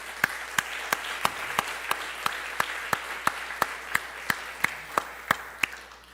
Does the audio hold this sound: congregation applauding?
yes